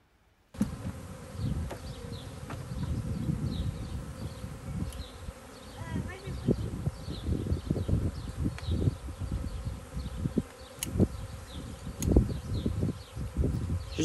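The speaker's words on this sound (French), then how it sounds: "pour qu'on se rende vraiment compte du bourdonnement que ça fait." Swarming honeybee colony in a shared garden, a dense continuous hum close to the microphone with individual bees buzzing past, wind rumbling underneath, no voices.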